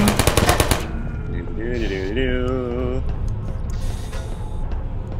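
A Portal turret fires a fast rattling burst of gunfire for under a second, then goes quiet while someone talks over faint game sounds.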